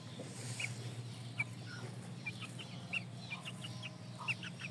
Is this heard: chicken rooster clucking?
yes